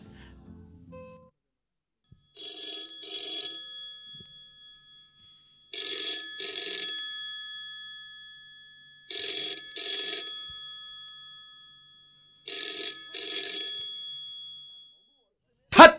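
A telephone rings in a Kannada comedy drama scene. Four separate double-burst bell rings come at even intervals with silence between them, loud and clear with nothing else over them.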